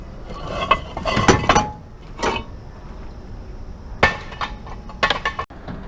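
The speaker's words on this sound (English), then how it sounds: "He had a bunch of rotors for me. Sling them off in the pile over here." Metal brake rotors from a mechanic shop are slung onto a scrap pile, landing in several loud, sharp metallic clanks and clatters at irregular intervals, close by with no talk.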